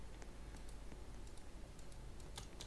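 Keyboard typing and clicking on a computer during a Roblox game, a faint, steady patter of quick key taps under a constant hiss, with no voices.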